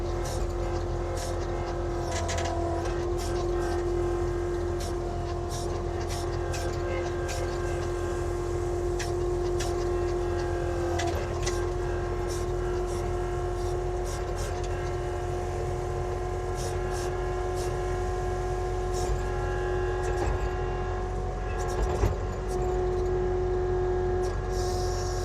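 A vehicle drives across a construction site laid with gravel, a steady continuous engine drone with a constant hum and light rattling ticks throughout, fairly close, with a brief bump near the end and no talking.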